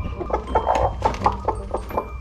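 A hen clucks in short, agitated bursts while someone catches it by hand to take its eggs, the calls close and fairly loud, with no talk over them.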